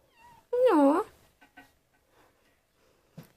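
A small kitten gives one clear, close, high-pitched meow, followed by a few faint soft sounds and brief quiet in an indoor home setting.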